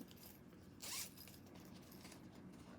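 A single short zipper being opened around the one-second mark, quick and close, over a low steady room hum.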